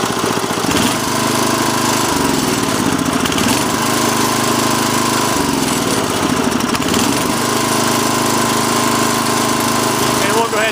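A Sears Craftsman rototiller's small engine runs at close range, loud and continuous, with a throbbing idle whose pitch swells and dips a few times as it is adjusted.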